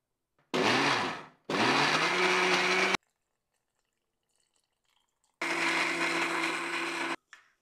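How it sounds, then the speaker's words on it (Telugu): A kitchen mixer grinder blending chutney runs loudly in two bursts, stops briefly, then whirs again for a long stretch before cutting off. "పచ్చడి మిక్సీకి వేస్తుంటేనే"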